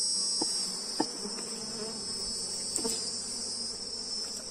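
Bees hum continuously around a hive box whose colony has swarmed, a steady close buzz with a few soft knocks and clicks beneath it.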